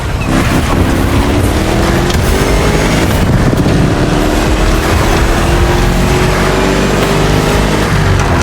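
A loud 1969 Mustang Boss 429 engine in the racing game The Crew Motorfest drones steadily throughout with smooth rising pitch sweeps as it accelerates through gears, a continuous roaring motor with no voices.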